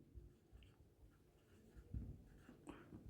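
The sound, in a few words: writing during a lecture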